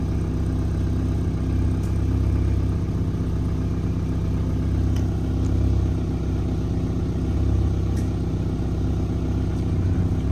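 A car engine with an LPG gas system idles steadily at close range, a low even rumble with no revving and faint ticks above it while it switches over to gas.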